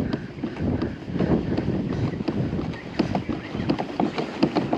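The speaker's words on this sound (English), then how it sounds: "this wind is crazy" Strong gusty wind buffets the microphone while out on the water in a Hobie 2020 Outback pedal kayak, a loud continuous roar with rumbling bursts and faint water sounds, no talking.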